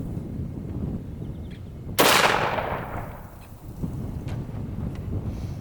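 A .45 Long Colt rifle firing a copper pellet into an open field outdoors gives one sharp, loud crack at about two seconds, which then rings out and fades over a windy, rumbling background.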